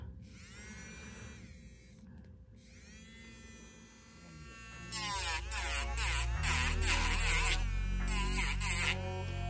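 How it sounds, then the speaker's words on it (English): A mini electric nail file grinding an acrylic nail tip on a practice trainer hand, a high buzzing whine that starts and stops in short bursts, loud and close, with a quieter motor hum and soft talk in the first half. "my mini e-file"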